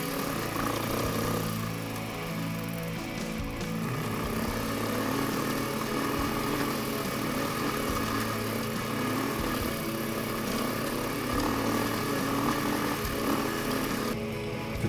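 KTM 500 EXC hard enduro motorcycle climbing a mountain pass in China, its engine droning loud and continuous throughout, with rough rising and falling strain.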